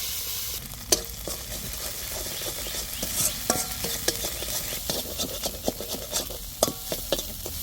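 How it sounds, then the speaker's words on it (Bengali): Chili, garlic and ginger fry in a little oil in a kadai, a steady soft sizzle broken by sharp spatula scrapes and clinks against the pan, irregular stirring strokes close by and no voices. "কড়াইতে সামান্য তেল দিচ্ছি তেলের উপর দিচ্ছি লঙ্কা লঙ্কা রসুন আর আদা"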